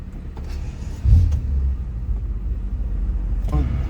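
A BMW M5 with a V8 engine runs close by as a low steady rumble that swells briefly, with no one speaking over it.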